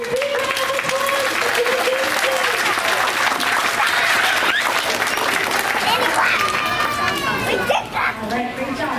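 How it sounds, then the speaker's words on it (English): A school board meeting audience gives a big round of applause for a student named Aubrey, steady and dense throughout with scattered voices and cheers mixed in, tapering slightly near the end. "Let's give Aubrey a big round of applause."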